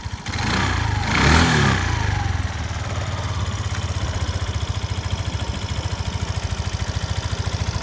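A Suzuki Address V125 scooter engine runs nearby, revving briefly early on and then settling into a steady, even putter.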